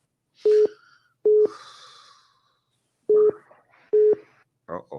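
A telephone busy signal sounds after a caller drops from a live call-in show, four loud evenly spaced beeps separated by pauses, with brief breathing and a short voice fragment between them.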